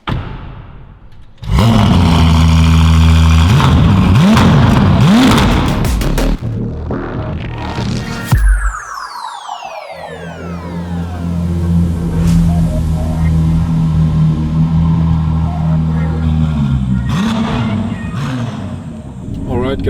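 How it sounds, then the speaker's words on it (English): Novitec-tuned 868 hp Ferrari 296 GTB fires up with a loud burst, then revs in rising and falling sweeps before dropping to a throbbing idle, outdoors in sub-zero cold. "I start the car up and you can listen to it and see how it sounds."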